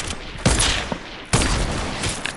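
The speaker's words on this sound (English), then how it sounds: "So other kids are trying to snipe at you" Two sharp, loud gunshots crack about a second apart in a Fortnite sniper fight, each followed by a short rattling tail, with faint scattered game noise in between.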